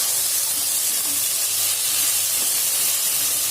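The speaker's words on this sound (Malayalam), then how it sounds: "ഇനി ഇതെല്ലാം കൂടിയിട്ടൊന്ന് വഴറ്റി കൊടുക്കുക" Vegetables with green peas sauté in a pan for vegetable pulao, giving a steady, bright hiss of frying that runs continuously without pause at close range.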